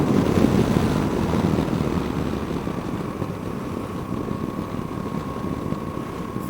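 A 2020 Moto Guzzi V85 TT motorcycle engine rumbles steadily while riding, a loud continuous low drone with wind buffeting and a faint steady tone, no talking.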